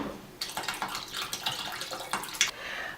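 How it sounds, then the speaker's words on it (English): Filtered water is poured from a container into a pot of bones for homemade bone broth, a splashing, gurgling pour running for about two seconds before tapering off. "I'm going to add the filtered water."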